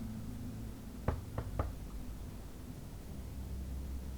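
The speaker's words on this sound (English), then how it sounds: "Knock on the door." Three quick knocks on a door in The Wolf Among Us, the video game, land in a tight cluster over a steady hiss of room tone.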